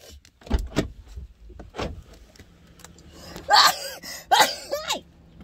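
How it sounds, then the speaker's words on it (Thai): A person sneezes twice in quick succession, loud and close, after a few softer breaths and bumps. "เสียงจามบ่อายภัยเด้จามเป็นเรื่องธรรมชาติ"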